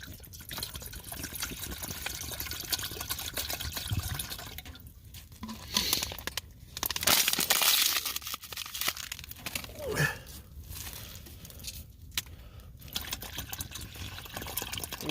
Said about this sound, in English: we gotta get some water going